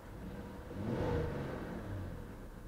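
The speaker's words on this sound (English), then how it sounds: "Rev smooth, idle smooth, everything is fantastic." A Hyundai Genesis with a 3.8 liter V6 and 106,000 miles runs steadily, its engine rumble swelling in a smooth rev and settling back toward idle, heard close and alone.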